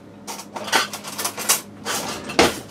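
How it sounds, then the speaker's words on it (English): A spoon grabbed in a home kitchen while making a cheesy chicken bake, heard as a quick series of light metallic clinks and rattles of cutlery and dishes, close by with no talk. "let me grab a spoon quick"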